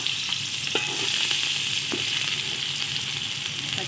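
Sliced onions and green chillies fry in oil in a pan for a chicken curry, a steady close sizzle with occasional scraping stirs of a spoon, no voices.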